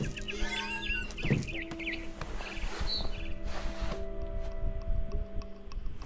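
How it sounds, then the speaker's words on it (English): Barn swallow chirps from What Remains of Edith Finch, heard as short quick twittering bursts over a steady game ambience with faint ticking and background hum. "Then I heard chirping outside my window."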